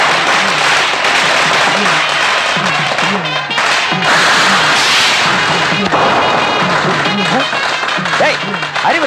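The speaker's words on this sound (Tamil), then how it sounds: "எங்க வந்து பட்டாசு வெடிக்கிற?" Firecrackers bursting near a Ganesha idol, a dense, loud run of sharp cracks and pops filling the scene, with people talking over the din.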